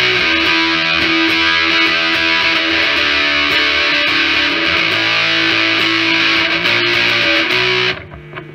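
Loud, saturated electric guitar through an Electro-Harmonix Sovtek Big Muff Pi V7B fuzz pedal, distortion and tone fully up, chords ringing with dense buzzing sustain before cutting off near the end.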